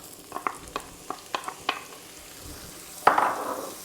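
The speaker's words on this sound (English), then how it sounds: "when the butter is starting to get, just before it gets brown, we add the onions." Onions go into browning butter in a pan for beef stroganoff: a run of quiet clicks and taps, then a sudden louder sizzle bursts out near the end.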